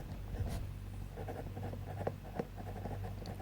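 Pen scratching on paper while a cash flow statement is written out, a soft continuous scratch with a few small tapping strokes, close but faint over a low humming background.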